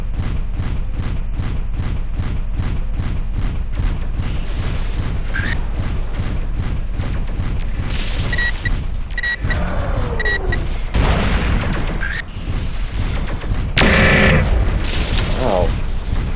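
Mech weapons fire repeatedly in MechWarrior 4: Vengeance, a rapid, steady train of loud booming shots running throughout, joined later by bursts of explosions and laser-like sweeps, with game radio chatter underneath.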